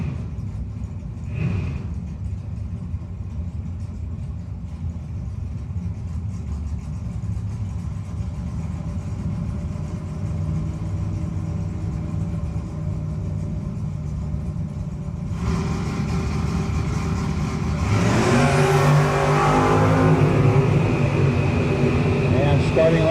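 A '71 Chevrolet Nova and a Camaro idle at a no-box drag strip start line with a steady low rumble before the engines swell into a loud, broad roar near the end.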